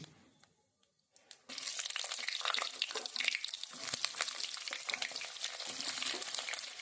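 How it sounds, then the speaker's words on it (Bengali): Cumin seeds and cut pointed gourd hit hot oil for a potato and pointed gourd curry: after a quiet start and a few clinks, a loud, close sizzle bursts in and crackles on steadily. "এটাকে দশ সেকেন্ড মতো ভেজে নেওয়ার পরে গ্যাসের ফ্লেমটা কমিয়ে দিয়ে দিয়ে দেব কেটে রাখা পটলগুলো"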